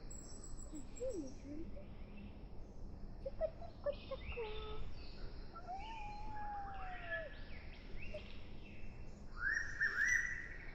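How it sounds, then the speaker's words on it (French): Scattered bird calls and short whistled chirps ring out from tall cedar trees against a soft, steady outdoor background, some faint and distant, a few clearer near the end. "c'est une vidéo pour enregistrer le bruit des oiseaux."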